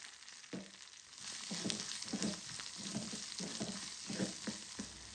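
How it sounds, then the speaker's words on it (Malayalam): Finely chopped onion frying in oil sizzles softly and close, with a rhythmic series of stirring scrapes over a steady hiss. "എന്നിട്ട് ചെറുങ്ങനെ അരിഞ്ഞിട്ടുള്ള ഒരു ഉള്ളിയാണ് ചേർത്ത് കൊടുക്കുന്നത്."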